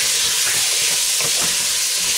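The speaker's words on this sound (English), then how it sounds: "Give that a stir." Seared pork and garlic stirred in a pot for a pork and bean pepperpot, a loud continuous sizzle and hiss with a few scraping strokes of the spoon.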